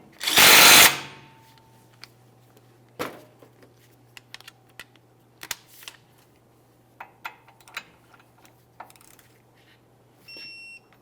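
A short harsh burst of tool noise comes first, then scattered light metallic clicks and taps as a wrench snugs the outer tie rod end nut on a 1999-2006 Chevrolet Silverado 1500 front suspension, in a quiet workshop.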